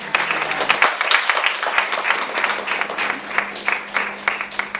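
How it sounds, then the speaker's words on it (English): Steady applause from an audience at a school awards day, many hands clapping in a dense, even wash that carries on throughout. "We still give her a round of applause."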